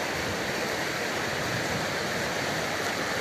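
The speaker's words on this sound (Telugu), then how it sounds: "ఇప్పుడు నీళ్ళు చూడండి ఫ్రెండ్స్, ఈ నీళ్ళు చూడండి ఎలా పోతున్నాయి" A stream swollen by rain near Madenahalli rushes past in a steady, dense broadband roar, close and continuous with no pauses or other sounds.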